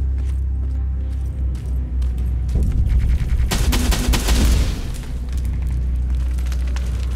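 Gunfire from a weapon in the video game Terminator: Resistance, a dense burst of shots rising over a low droning background and then fading back to the hum.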